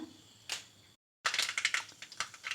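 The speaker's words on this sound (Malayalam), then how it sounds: "കടുക് പൊട്ടിയിട്ടുണ്ട്" Mustard seeds pop in hot coconut oil: sharp crackling pops burst in dense clusters, loud and close, with a brief silent gap before a rapid run of spattering crackles.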